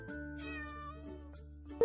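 A single drawn-out cat meow, close and clear, rising then settling in pitch and ending abruptly.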